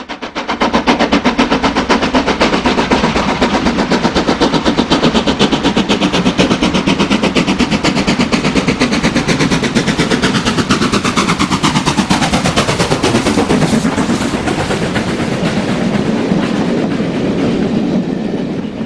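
A Stanier steam locomotive passes at close range, its loud rapid exhaust beats and clattering wheels sounding continuously, with a falling pitch sweep as it goes by.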